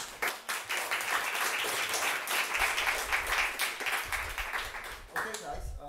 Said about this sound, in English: Let's round of applause for Tsubasa and Dustin.